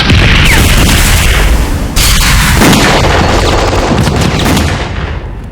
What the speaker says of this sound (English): machine guns and mortars pounded the advancing British